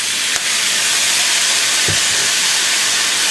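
Watermelon rind stir-fried with light soy sauce, salt and sesame oil in a hot wok, giving a steady loud hiss and sizzle throughout with a couple of brief knocks.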